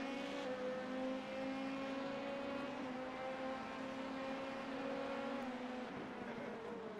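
A Ferrari race car in the iRacing simulator during the Sebring 12 Hour endurance race, its engine holding a sustained, even, tonal drone throughout with only slight shifts in pitch and no speech.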